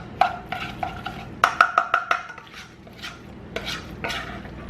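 Utensil stirring scrambled eggs in a hot pot on a stove, a series of close scraping clinks and taps in uneven bursts with a soft sizzle underneath.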